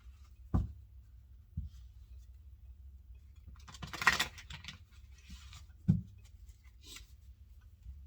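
Tarot cards are shuffled during a reading, faint soft riffling and a few sharp taps of the deck in a quiet room, with a brief flurry of card flutter in the middle.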